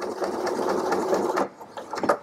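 A Pfaff Ambition 610 sewing machine stitches through fabric with a steady, close mechanical whir that halts about two-thirds of the way in, followed by quieter handling sounds.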